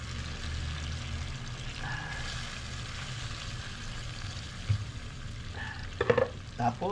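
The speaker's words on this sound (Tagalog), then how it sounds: "Tapos hayaan natin siyang kumulo hanggang mga 10 minutes siguro." Boneless chicken legs cook in marinade in a pan, with a steady sizzle and bubbling throughout and a few brief clinks and stirring sounds near the end.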